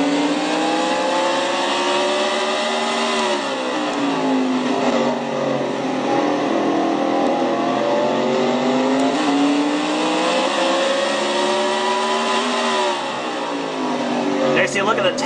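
Onboard a race car lapping the Martinsville short track, the engine screams near 10,000 RPM, rising and falling in pitch through braking and acceleration on each corner. It stays loud and continuous with commentary voices underneath.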